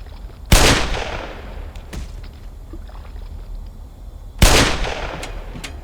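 Two loud gunshots in the Half-Life remake Black Mesa, sharp blasts about four seconds apart, each trailing off into a decaying echo over low background hum.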